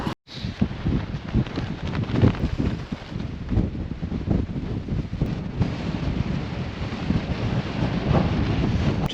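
Strong gusting wind roars at a mountain summit camp in a forecast 50 mph storm, buffeting continuously and loudly with broadband rushing and rumbling that never lets up, no voices present.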